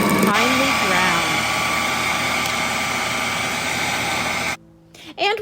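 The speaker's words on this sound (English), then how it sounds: "we are going to transfer them to our food processor with our parsley. Then we're going to grind them until they are finely ground" A food processor grinds chickpeas with parsley, a loud, steady whirring motor that runs continuously, then cuts off near the end, followed by a short rattle.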